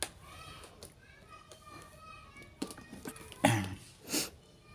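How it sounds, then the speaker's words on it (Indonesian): A single short cough rings out close by during a quiet indoor crab-trap building session, with a second softer burst of throat noise just after, both standing out above low background noise and no speech. "Mohon maaf sedikit batuk."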